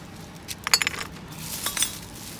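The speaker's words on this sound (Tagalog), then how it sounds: "Green na bote ito." Glass bottles clink and jangle together in a few quick, bright bursts while trash is being sorted, with short gaps between the chinks and no talking.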